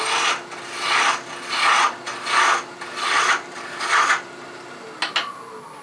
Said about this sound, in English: Now I'm going to go back to using a spindle roughing gouge, and I'm just going to kind of turn this down a little bit in this Christmas tree.